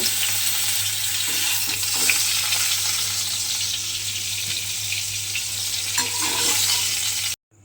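Pointed gourd pieces fry in hot oil until reddened, giving a steady, dense sizzle with faint stirring that runs continuously before cutting off abruptly at the end.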